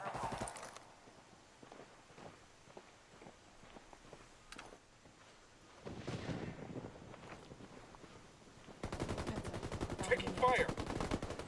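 Gunfire in Ghost Recon Wildlands, bursts of rapid shots and scattered single reports over a low background, swelling into a dense loud volley near the end, with voices in the mix.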